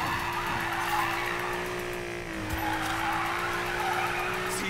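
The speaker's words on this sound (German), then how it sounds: "Zieh den Drift durch, Mac" Sustained tire squeal from a car drifting in Need for Speed Payback, a steady, loud screech over a droning engine that holds for the whole stretch with a brief dip midway.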